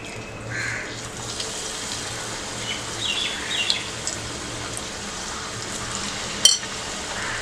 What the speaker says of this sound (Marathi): भजी तळायला घेऊया